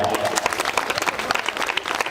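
An audience at a Marathi comedy stage show in Pune claps together, a dense, lively burst of many hands patting in quick overlapping rhythm.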